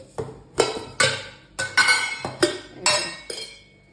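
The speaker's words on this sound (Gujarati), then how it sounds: "વાસણ આપણે ઉટકવા પડે" Metal utensils being washed clatter and clink together in about eight sharp, close impacts, each ringing briefly before the next, with no talking.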